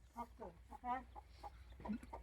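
Chickens cluck in short, agitated bursts close by as a large hen is caught, several quick harmonic calls spread unevenly over two seconds, fairly quiet.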